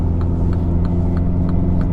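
A MINI Cooper S Countryman All4 (F60) with an 8-speed automatic pulls hard to pass a truck, its steady engine drone and road rumble loud and close from inside the cabin, no talking.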